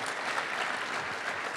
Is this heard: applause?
yes